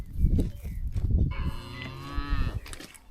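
Cattle lowing loudly and repeatedly at close range as the herd is moved along a roadside, with long drawn-out moos overlapping one another and outdoor background noise underneath.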